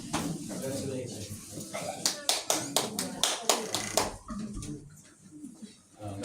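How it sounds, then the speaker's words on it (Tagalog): Wedding guests clap in a quick burst of sharp, fairly close hand claps lasting a couple of seconds, rising over and then fading under ongoing talking in the room. "Palakpak naman kayo dyan."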